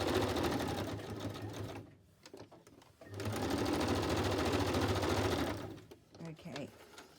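A sewing machine stitches embellishments onto an envelope, a loud steady mechanical whir in two long runs separated by a pause, with brief sounds of handling as it stops.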